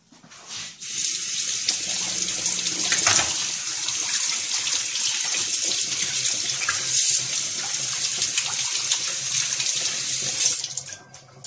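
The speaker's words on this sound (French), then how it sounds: "Je vais me relaver les mains." Water gushes steadily from a kitchen tap as hands are rewashed under it for several seconds, the flow loud and close, with splashing shifts partway through before it cuts off.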